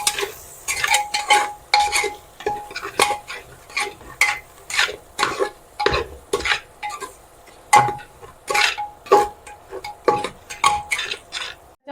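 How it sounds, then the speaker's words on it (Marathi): Veg biryani masala spices being sautéed in a pan, a spoon scraping and stirring in a steady rhythm of close repeated strokes over a light sizzle, no talk. "आता टाकलेले मसाले चांगले आपण परतून घेऊ."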